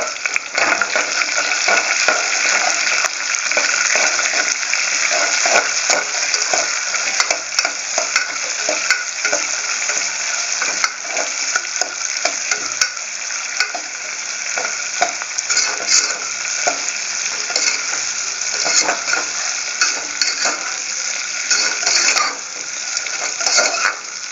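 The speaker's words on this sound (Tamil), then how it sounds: "பெரிய வெங்காயம் நறுக்கி அதில் போட்டு அதையும் நம்ம வந்து வறுக்கணும்" Chopped big onions sizzle and crackle steadily in a hot pan, a loud continuous fry with occasional stirring scrapes and clinks, no voices.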